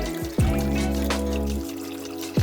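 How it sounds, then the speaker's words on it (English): Water pouring onto a freshly planted tomato bed in a garden allotment: a steady trickling and splashing stream with a few changes in pitch, close by and continuous, with no talking. "Once the tomatoes were in the ground, I gave them a lot of water to make sure the whole bed was wet."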